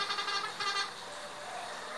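Telolet horn of a Canter truck in Bus Simulator Indonesia plays two quick bright musical toots, clear and tonal, followed by a fading hum.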